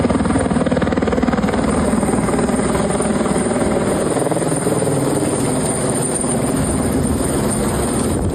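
Rescue helicopter flying over flooded Texas, its rotor thumping steadily and loud for the whole stretch, with no talking.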